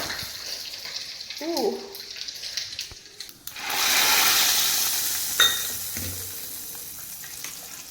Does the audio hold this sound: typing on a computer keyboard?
no